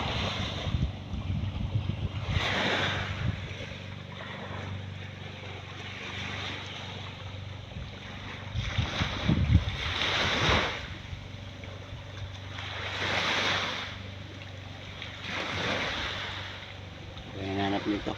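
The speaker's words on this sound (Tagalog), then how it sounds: "Ang ganda ng dagat, malalim ngayon dito mga amigo ng dagat." Deep sea waves heard from a boat, several surges rising and falling every few seconds over wind noise on the microphone, with faint talk.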